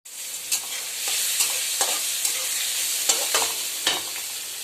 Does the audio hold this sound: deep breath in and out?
no